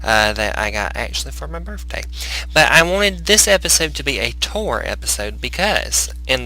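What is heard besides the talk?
None of the usual background noises is heard.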